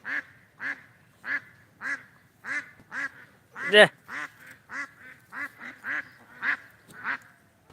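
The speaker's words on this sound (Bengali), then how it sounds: "অনেক হাঁস আছে হাঁসে ডাকছে" A run of loud, nasal duck quacks repeating in a steady rhythm, about a dozen calls close by, with one louder burst in the middle.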